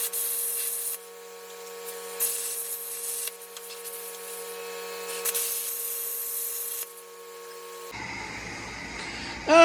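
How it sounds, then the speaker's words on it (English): A plasma cutter slices through an old Chevy truck frame with a steady, harsh hiss that surges and drops in long stretches, loud and close, then cuts off abruptly near the end. "So, plasma cutter for the win."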